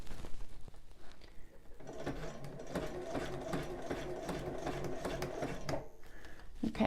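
A sewing machine stitches bra elastic in a fast steady mechanical whir of a few seconds, starting after a quiet handling pause and stopping near the end.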